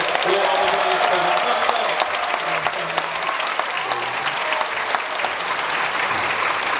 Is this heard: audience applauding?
yes